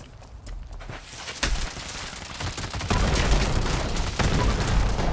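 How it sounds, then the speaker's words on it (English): Mortar fire in a video game, a sharp thump followed by continuous loud blasts and rumbling battle noise that grows heavier toward the end, with no speech over it. "Fire mortar."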